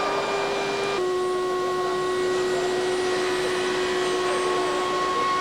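Numerically controlled CNC machines milling wood staircase components from standard panels held on vacuum supports, a loud steady whine with sustained tones that shift pitch once, filling the factory space with no talking.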